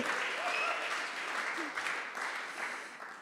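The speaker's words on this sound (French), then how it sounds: "qu'on peut applaudir également" Audience applauding at a startup demo day in Paris, a brief burst of steady clapping from a crowd with faint voices underneath.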